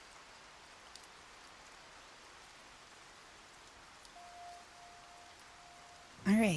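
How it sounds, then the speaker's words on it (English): Rain falls steadily in the Disney Dreamlight Valley video game, an even soft patter throughout, with a brief tone and a burst of speech at the very end. "I can hear the rain, so it's still raining."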